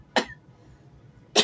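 Two short, sharp coughs from a person with a fever and worsening cough, spaced about a second apart, close and fairly clear against a quiet room.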